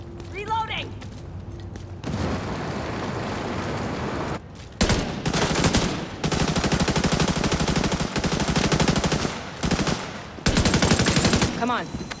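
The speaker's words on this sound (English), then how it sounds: "Firing on target!" Sustained automatic gunfire in the video game The Division 2, long rapid bursts of loud shots separated by brief gaps, close and intense, with voices calling out among the shooting.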